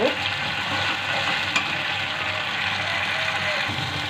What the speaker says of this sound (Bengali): এইভাবে ভালো করে নেড়ে নেব মশলাটা ভালো করে কষিয়ে নেব